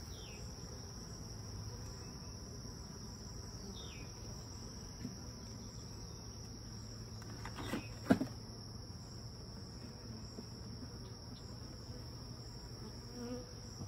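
Honey bees buzzing around hives during a transfer from swarm traps to nucs, a faint steady insect hum with a constant high whine throughout and a couple of soft knocks near the middle.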